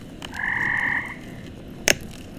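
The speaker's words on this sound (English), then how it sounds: "I want it lower for my frogs." A frog croak sound effect: one sustained, buzzy croak lasting under a second, loud and close, followed by a short sharp click and quiet background hiss.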